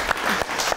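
Applause from a studio audience on a French-language African television show, a brief burst of clapping that swells and fades with faint voices mixed in.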